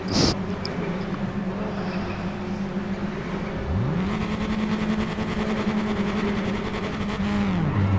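Tatuus race car engines at a race start at Portimao in RaceRoom drone steadily, with a rising engine pitch as the cars accelerate and higher revving underneath, and nobody talks.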